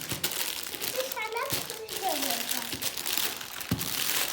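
A cardboard pizza box is pried open with crinkling and rustling, scraping and crunching sounds, while a child and an adult talk over the handling.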